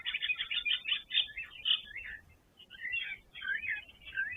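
An Indian myna calls at a hot South African waterhole, a series of bright chirps and whistles in two bursts with a short pause between, fairly close and clear.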